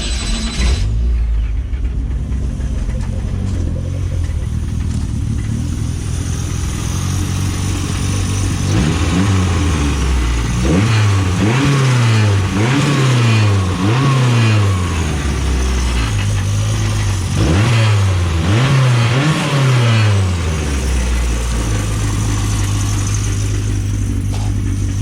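Datsun 720 pickup with a swapped KA24E turbo engine running near and loud, idling steadily and then revved in a series of sharp rising-and-falling bursts in two clusters before settling back to idle; no one speaks.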